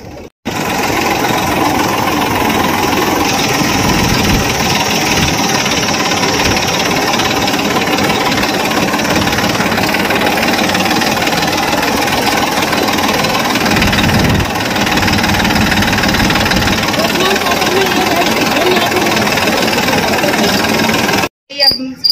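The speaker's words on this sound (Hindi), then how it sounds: "देखो भाई ट्रैक्टर तो भैया चला रहे हैं" A tractor engine runs loudly and steadily throughout, a continuous rumbling drone with a knocking undertone that is close and constant, with people talking over it at times.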